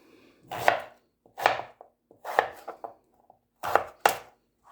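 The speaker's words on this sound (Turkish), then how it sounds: "kabağımı doğradım" A knife chops through squash on a board in separated bursts, two or three sharp cuts each, close and crisp with short pauses between.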